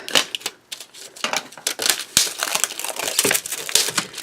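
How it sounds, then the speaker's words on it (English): A plastic package holding a Scor-It scoring tool for cardstock is torn and peeled open, giving dense crinkling and crackling close up, with sharp snaps and rustles all the way through and no talking. "So I'm going to take it out of the package. I'm going to open this up."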